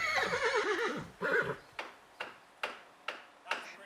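A horse whinnies loudly at the start, then hooves clip-clop in an even rhythm across a busy inn courtyard where ostlers are changing horses, used as an audiobook sound effect.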